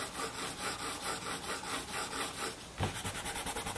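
Pencil or fingers rubbing and blending graphite shading on paper for a skull drawing, a steady rhythmic scratchy back-and-forth stroke, close and continuous with a brief thump near the end.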